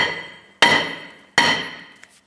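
A hammer taps the back of a seized rear brake rotor on a 2005-2010 Chrysler 300 to free it: two loud, close, ringing metallic strikes about three-quarters of a second apart, each decaying slowly, with no talking.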